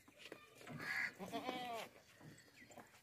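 A goat with long drooping ears, a large milk-producing breed, gives one wavering nasal bleat lasting about a second amid faint background murmur, close by.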